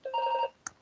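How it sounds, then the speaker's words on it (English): A telephone rings once in a council meeting room, a short electronic tone with a brief chirp right after, clear and alone. "Apologies for the phone ringing."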